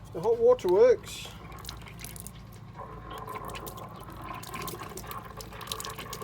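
Hot water runs and splutters from a tap in a Mercedes 814d camper van with air in the pipe, a steady close hiss with drips after a brief burst of speech.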